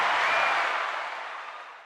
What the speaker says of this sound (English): Let's get a round of applause for Manthropology